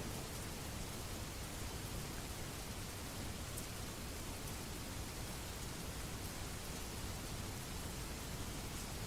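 Rain falling outside at night, a dense, unbroken hiss of drops spread evenly over several seconds, steady and fairly loud with no voices.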